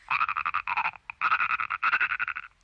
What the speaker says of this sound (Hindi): मेंढक की आवाज।